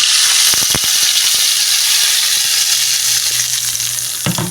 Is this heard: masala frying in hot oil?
yes